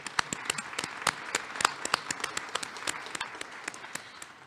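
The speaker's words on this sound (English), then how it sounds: "Let's give them a round of applause to all of the faculty and staff who helped support you" Applause for faculty and staff at a Portage College convocation, a steady patter of many hands clapping with sharp individual claps standing out, moderately loud and continuous without speech.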